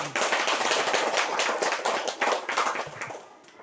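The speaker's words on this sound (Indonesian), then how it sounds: "Kita berikan tepuk tangan yang meriah." Audience applause at a school committee meeting, steady dense clapping from many hands that holds at an even level for a few seconds before easing off toward the end.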